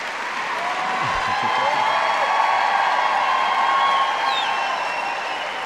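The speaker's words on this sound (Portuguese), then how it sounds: "Sou uma salva de palmas para a Jürgen." An awards-ceremony audience at the International Portuguese Music Awards gives a steady, broad wash of applause, fairly loud and continuous, with faint cheering tones mixed in and no speech.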